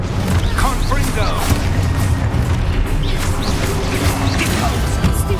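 Confringo blasting spell explosions in Hogwarts Legacy, heavy booms and crashing impacts packed into a dense battle mix under excited shouted voices.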